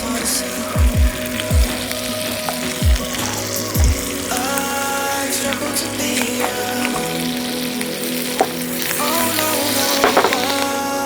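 Butter and sliced green chilli sizzle and crackle in a pan for garlic prawns, a steady close fry with scattered pops and clinks of utensils, no talk.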